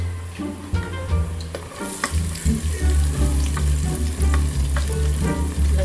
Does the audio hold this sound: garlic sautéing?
yes